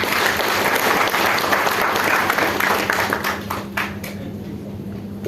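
An audience in a presentation hall breaks into sustained, loud applause, dense overlapping clapping that holds steady before thinning slightly toward the end, with a few scattered voices underneath.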